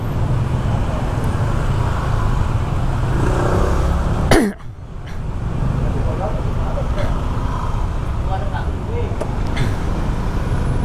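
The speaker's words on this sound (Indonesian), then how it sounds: "Kalau di jalan sini tuh setiap hari jalannya macet kayak gini, hampir setiap hari." Heavy evening traffic jam on a road in Kerobokan, Bali: a constant rumble of cars, buses and trucks close by, with a brief loud hiss like an air brake midway.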